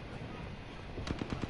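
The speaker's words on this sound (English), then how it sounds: "Shots fired at me." Gunshots ring out in a video game firefight, a quick run of four or five sharp cracks in the last half second after a stretch of low, busy background noise.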